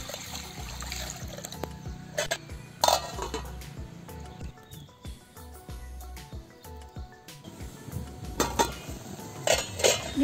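Lentils being washed in water in a cooking pot at home while making tomato rasam, with repeated clinks and scrapes of a metal pot and utensils over soft trickling and sloshing water, close and moderately loud.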